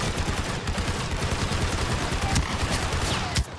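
Rapid gunfire in the shooter game Star Wars Battlefront 2 rattles almost without pause, dense and steady bursts with a couple of sharper cracks near the end, no speech over it.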